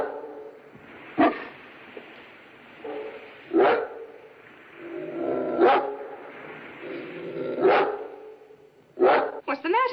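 A dog barks in several loud, sharp bursts spaced a couple of seconds apart, ending in a quick double bark, with low voices murmuring and a soft whimpering undertone between the barks.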